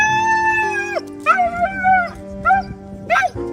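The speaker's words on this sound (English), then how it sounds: "Listen how happy this Ukrainian dog is after finally reuniting with his owner in Kyiv." A dog in Kyiv whimpers and yips excitedly as it reunites with its owner, giving high, drawn-out whines and short squeals close by over a faint background.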